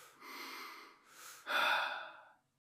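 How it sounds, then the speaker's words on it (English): A person does a physiological sigh, two quick breathy inhales close together followed by a longer, fuller exhale, heard close and alone. "physiological sigh. 2 inhales, 1 long exhale."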